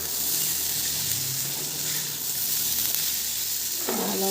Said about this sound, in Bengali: ভালো মতন নেড়ে দিলাম